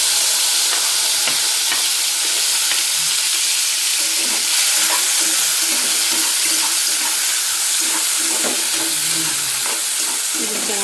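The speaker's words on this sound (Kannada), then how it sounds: "ಹಾಗೆ ಕೊಯ್ದಿಟ್ಕೊಂಡಿರೋಂಥ ಈರುಳ್ಳಿ ಟೊಮೊಟೊ ಹಾಕ್ತಿದ್ದೀನಿ" Chopped onions and tomatoes dropped into hot oil in a pan, frying with a loud, continuous hissing sizzle and occasional stirring scrapes, very close, without talk.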